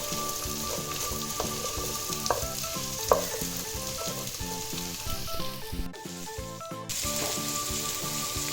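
Mixed vegetables for a veg biryani sizzle and fry in a pan, a continuous crackling hiss with small pops, steady throughout, with a brief quieter dip near the end before the frying resumes at full level.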